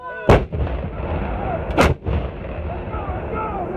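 An M777A2 howitzer fires two booming shots about one and a half seconds apart, each sharp and loud, followed by rolling echoes and a rumbling reverberation in the open air.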